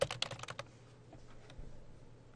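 Alternate text is typed on a computer keyboard, giving a quick burst of close key clicks at the start that tapers into a few sparse taps, with no voices.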